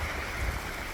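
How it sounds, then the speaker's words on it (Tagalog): Water coming down from the mountain flows in a steady, close rushing wash with a low rumble, continuous and even throughout, with no voices. "Yung tubig na yun doon, tingnan niyo, galing yan ng bundok."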